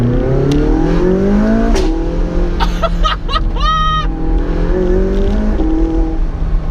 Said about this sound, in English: One of this thing's greatest party tricks is the way it pops on upshifts